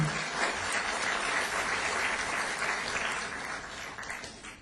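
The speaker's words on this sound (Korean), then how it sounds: "여러분 환영의 박수 부탁드립니다." Welcoming applause from a ceremony audience greeting newly introduced dignitaries at a commemoration of the third anniversary of the October 4 inter-Korean summit. The clapping is dense and steady, holding at an even level throughout before easing slightly near the end.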